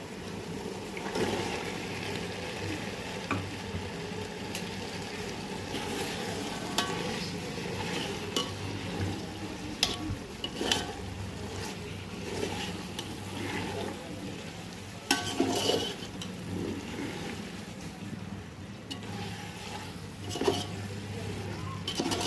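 Masala spice mix for masale bhat sautéed and stirred in a pan, a continuous soft sizzle with irregular scraping stirs and occasional clanks throughout.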